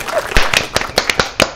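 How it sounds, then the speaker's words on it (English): A person claps by hand several times in an uneven sequence of about six sharp, close, loud smacks with no talking in between. "I'm gonna clap one more time"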